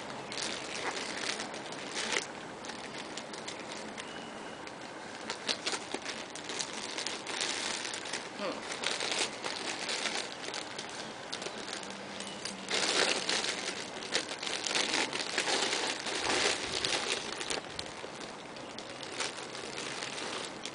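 Plastic package wrapping crinkles and crackles continuously as it is cut open, a dense, close rustle running throughout with brief louder bursts.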